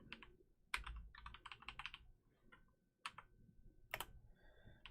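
Computer keyboard keys are tapped in uneven bursts of rapid clicks with a few louder isolated strokes and short pauses between them, close and clear, with no talking.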